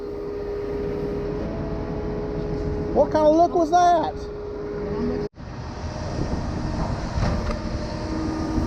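A concrete pump running on a windy job site during a pour, a steady loud mechanical drone with rumbling wind noise, while someone speaks briefly over it partway through.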